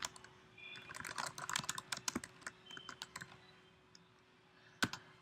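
Rapid clicking keystrokes on a computer keyboard, close by, typing into a text box in Microsoft PowerPoint, in uneven bursts with a brief pause before a final sharp tap.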